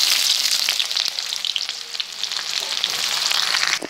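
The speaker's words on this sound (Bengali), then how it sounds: "এবার আমি কুচিয়ে রাখা পেঁয়াজ দিয়ে দিলাম" Chopped onion fries in hot mustard oil with cumin seeds, giving a loud, steady sizzle and crackle with occasional stirring scrapes, close up and without talk.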